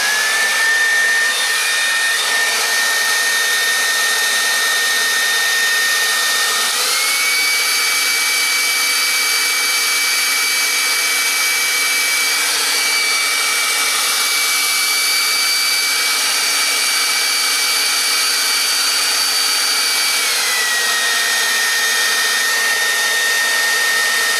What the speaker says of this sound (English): And then we just put some heat to it. Blow dryer is the easiest way.